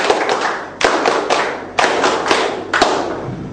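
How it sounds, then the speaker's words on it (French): Audience at the close of a training session in Côte d'Ivoire claps in unison on a count, giving five sharp group claps spaced about half a second to a second apart, loud and close with no talk. "On applaudit tout le monde."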